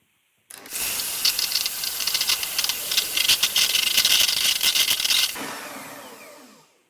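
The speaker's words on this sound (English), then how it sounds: "I'm going to use my electric beater to whisk this up until it's nice and stiff." Electric beater whisking egg white in a bowl for a lemon meringue pie, a steady whirring hiss with rattling beaters against the bowl, starting abruptly and running about five seconds before cutting off, close and loud.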